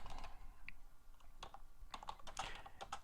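Typing a search query on a computer keyboard, a quick run of soft clicky keystrokes, close but quiet over a steady low background hum, with no voices.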